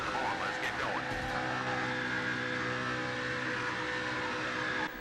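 NASCAR 08 race cars on a track on Xbox 360: a steady, loud engine drone with whining pitch sweeps as cars run together, holding constant before cutting off near the end.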